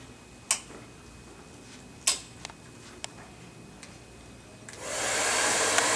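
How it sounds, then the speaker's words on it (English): A hair dryer drying hair with a paddle brush: a few sharp clicks and handling taps, then the dryer switches on near the end with a loud, steady rushing blow. "as I blow dry right over that"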